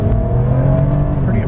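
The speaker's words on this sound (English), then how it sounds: "We'll be doing a 0-60 acceleration pull here, going up a hill with the air conditioning on, putting maximum load on the car." A 2009 Toyota RAV4 V6 SUV with air conditioning on pulls hard from 0 to 60 uphill, its engine giving a loud, steady droning roar heard from inside the cabin, with no break in the note.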